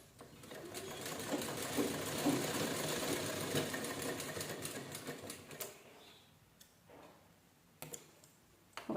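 A sewing machine stitches fabric strips together for a rag doormat, running in a steady rapid clatter for several seconds, then stopping and starting in short bursts with quieter gaps between.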